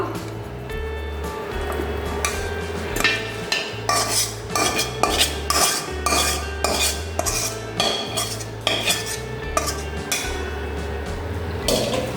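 Chicken pieces going into a metal pot for chicken biryani, with clattering utensil and pot knocks, scraping and a low background hum, close up and without talk.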